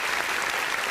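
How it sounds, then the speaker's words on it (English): An audience claps loudly and continuously, a dense wash of applause with no pauses. "Let's give a round of applause to Lupita"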